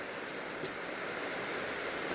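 Steady monsoon rain falls outdoors near a home garden in Kerala, making an even, unbroken hiss with no voices.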